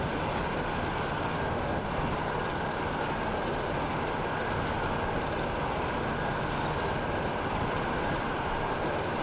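A train runs along the line in the railway simulation game Transport Fever 2, producing a dense, steady rolling rumble and rail noise at constant loudness throughout, with no voices.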